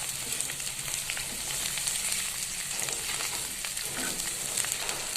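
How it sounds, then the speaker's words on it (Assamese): Potato pieces fry in a pan for a fish curry, giving a constant, even sizzle of hot oil with faint stirring scrapes, moderately close and without speech. "আলু টুকুৰাকেইটি দি দিছোঁ তাতে আৰু অলপ সময় আলু টুকুৰাকেইটা ভাজি ল'লোঁ"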